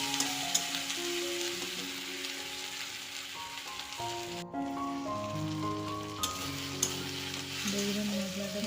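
Spice paste sizzles steadily as it fries in ghee in a pan for an egg curry, with a spatula stirring and scraping through it. The sizzle runs continuously and fairly loud, with occasional clinks and no talk.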